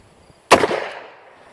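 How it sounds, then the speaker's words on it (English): A single sharp, close gunshot from an old used Colt Trooper MK3 revolver, fired while cold, cracks out of near silence and fades over about a second. "I'm shooting this gun cold too, in all fairness."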